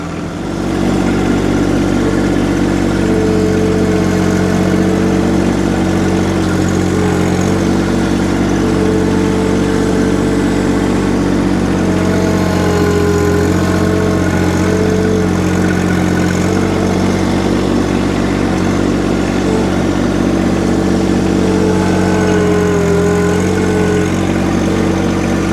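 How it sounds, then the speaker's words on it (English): A tractor engine idles steadily and loudly close by for the whole stretch while garden soil is mixed, with a constant low droning rumble and no voices. "or I could use my tractor"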